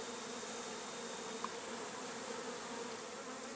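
Many honeybees of an autumn swarm hum in a soft, continuous buzz, steady and somewhat distant, with no voices present.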